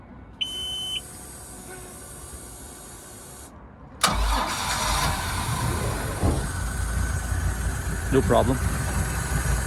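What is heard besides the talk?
Mercruiser 4.3L MPI boat engine hot restart, Bayliner 195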